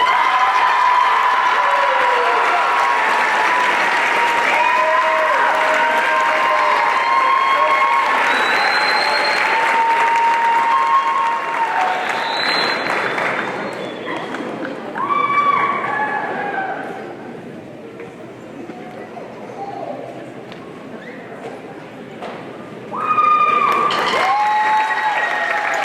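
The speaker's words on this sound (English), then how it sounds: "give a big round of applause for our outstanding percussionist" A concert audience bursts into long applause and cheering for the band's percussionist, loud and sustained clapping with whistles and shouts, dipping midway before swelling again; voices mix in throughout.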